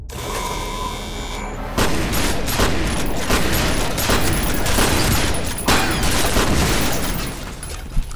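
Sustained, dense gunfire from the first-person shooter FEAR, rapid loud shots rattling almost continuously across the clip after a brief quieter opening, with no speech over it.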